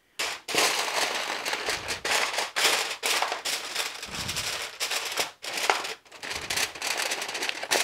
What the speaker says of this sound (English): I just started a fire.